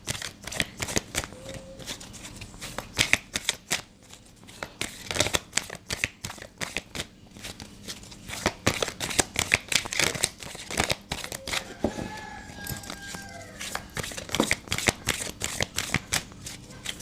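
Tarot cards are shuffled continuously at close range, with rapid riffling and slapping flurries in an irregular rhythm that runs steadily throughout.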